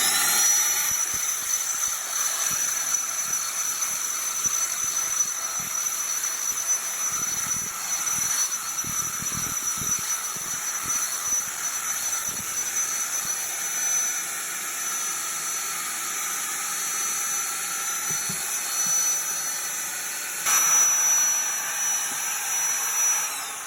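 A paddle mixer churns lime putty for straw bale plastering, giving a steady whirring drone with a constant high whine and occasional low knocks from the paddle.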